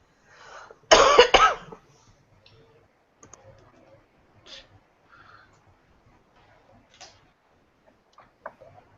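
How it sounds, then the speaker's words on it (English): One short burst of heavy, harsh coughing, close and loud, followed by scattered faint clicks and small noises in an otherwise quiet room. "You sound like someone coughing up a lung right about now."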